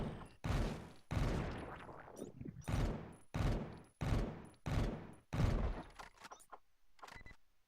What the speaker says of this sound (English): Burst rifle is exactly how it sounds. Lots of quick bursts of damage.